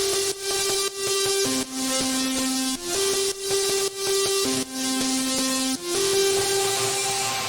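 Overdriven lead guitar through an amp in a heavy melodic dubstep track, a loud distorted melody alternating between two held notes over a steady pulsing rhythm, with no talking.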